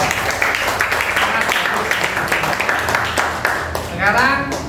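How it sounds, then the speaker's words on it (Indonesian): Classroom applause from students in an Indonesian economics lesson, a dense clatter of clapping that runs steadily throughout with voices mixed in. "Oke, tepuk tangan."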